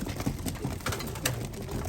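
Racing pigeons back from a headwind race coo in low, overlapping murmurs at a loft, with a steady dense background of bird noise and no clear talk.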